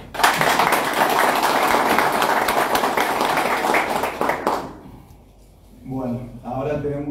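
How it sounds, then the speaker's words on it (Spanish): A room of council-session attendees breaks into close, busy applause for several seconds, which dies away before a voice starts talking. "Un aplauso."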